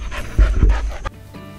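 A dog pants outdoors in heavy rain on Hawaii's Big Island near Pahoa. The panting is quick, close and fairly loud, with several rapid breaths over about a second, then it fades into quiet background.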